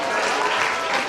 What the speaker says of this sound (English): Please give me hands for him.